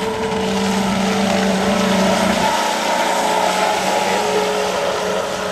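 Twin electric motors on an Expresscraft Thunderbolt RC boat running on 5S power, roughly 1600 KV, make a steady, loud whine with a droning buzz that holds continuously throughout.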